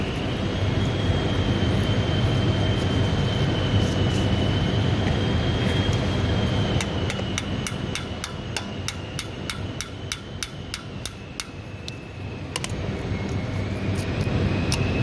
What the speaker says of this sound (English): I'm gonna pretty much do this all the way around until I can bust that seal